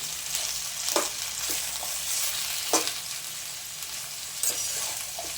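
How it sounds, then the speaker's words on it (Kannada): Bitter gourd pieces frying in oil for a village-style gojju give a steady soft sizzle, broken by a few sharp scraping stirs of a spatula, close and alone with no talking. "ಈಗ ಸ್ವಲ್ಪ ಆಯಿಲ್ ಹಾಕ್ಕೊಂಡು ಫ್ರೈ ಮಾಡ್ಕೊತಾ ಇದ್ದೀನಿ ಈಗ ಆಯಿಲಲ್ಲಿ ಚೆನ್ನಾಗಿ ಫ್ರೈ ಮಾಡ್ಕೋಬೇಕು ಹಾಗಲಕಾಯಿ"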